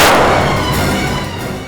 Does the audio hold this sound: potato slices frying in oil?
no